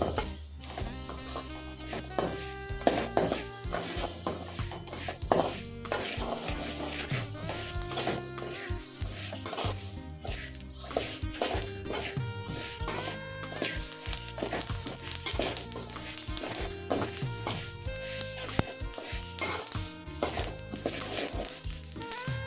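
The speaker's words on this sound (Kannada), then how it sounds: "ಈ ರೀತಿಯಾಗಿ ಚಟಪಟ ಚಟಪಟ ಅಂತ ಸೌಂಡ್ ಬರಬೇಕು" Ingredients for North Karnataka chutney powder crackle and pop while dry-roasting in a pan, a dense, continuous stream of sharp sizzling snaps close up, with occasional stirring scrapes and no talk.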